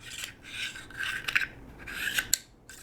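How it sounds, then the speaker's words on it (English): A charging handle slides into an AR-15 rifle, a Colt M4A1 SOPMOD Block 2 clone, with short close metallic scraping and rubbing strokes and a small click, quiet and without talk. "So let's get this charging handle in there."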